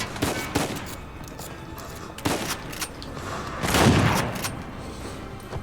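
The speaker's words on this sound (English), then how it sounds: "I shot that guy at long range and in one hit killed him." Shotgun fire in a video game, several sharp blasts spaced a second or two apart over low rumbling game noise, with one louder, longer boom near the end and no talk.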